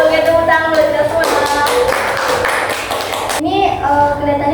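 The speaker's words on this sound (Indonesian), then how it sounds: "tepuk tangan buat kita semua" A small counseling group claps hands together together in a room, a dense burst of applause mixed with light taps and some voices, ending abruptly as a speaker carries on.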